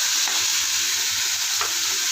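Mustard seeds, onion, dried red chillies and curry leaves fry in hot oil in a pan for a home-style Tamil carrot stir-fry, giving a steady, close sizzle with faint stirring scrapes and no voices.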